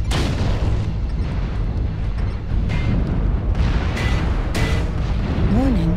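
Missile explosions in MechWarrior Online during a forest colony conquest match: dense, loud booms and rumbling blasts pile up continuously, with a brief rising electronic tone near the end and faint voice alerts mixed in.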